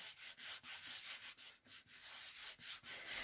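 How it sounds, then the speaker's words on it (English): Tissue or rag rubbing ink into a sheet of lino, a dry scratchy swishing repeated in quick, even back-and-forth strokes, close and fairly quiet with no talking. "Take a tissue or a rag and just rub it into the lino."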